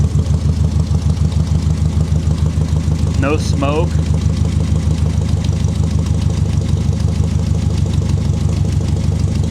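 A 1966 Chevy Impala SS 396 V8 idles steadily up close with a loud, even exhaust rumble, while a person speaks briefly over the running engine.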